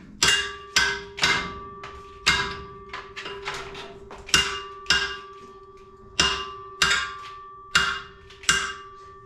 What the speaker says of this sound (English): Now I need to get a hammer and bend that body mount back out.